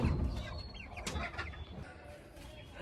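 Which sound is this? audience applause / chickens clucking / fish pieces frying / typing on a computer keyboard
chickens clucking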